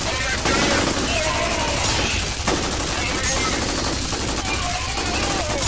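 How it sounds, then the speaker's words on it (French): Dense sustained machine gun fire and explosions from the FEAR shooter game, continuous and loud throughout, with a voice talking over parts of it. "Oh, elle est pas bien ma mitrailleuse."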